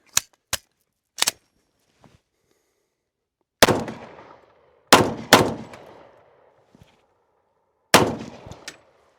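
Glock 20 pistol firing Sellier & Bellot 10mm Auto rounds into a wall: three sharp, close shots in quick succession, then a pause, followed by four louder, heavier bangs with ringing decays, spaced irregularly.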